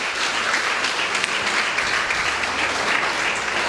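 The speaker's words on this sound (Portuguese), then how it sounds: "Pode aplaudir o Senhor." Dense, continuous applause from a church congregation, loud and steady throughout with no pauses.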